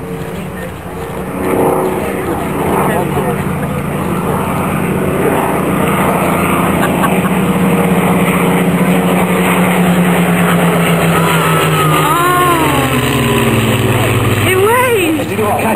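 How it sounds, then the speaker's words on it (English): Spitfire and Hurricane propeller aircraft of the Battle of Britain Memorial Flight pass over an air show at East Kirkby, a steady droning engine roar with voices and crowd chatter running over it throughout. "let's have a wave as they come past the Spitfire and Hurricane of Battle of Britain Memorial Flight"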